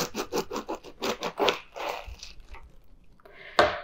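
A knife cuts the stem off an iceberg lettuce in a rapid series of crisp, close crunching strokes, then pauses before one final sharp crunch.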